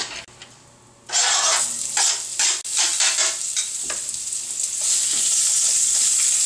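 Chopped onion sautés in olive oil in a pan. A close, crackling sizzle kicks in after a quiet moment and is broken by bursts of stirring and scraping.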